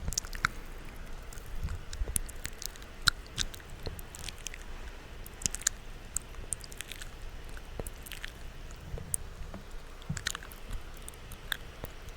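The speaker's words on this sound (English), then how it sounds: "My favorite trigger recently has been mouth sounds" Soft, close mouth sounds: wet clicks, smacks and chewing-like squishes scattered irregularly over quiet, with no talking.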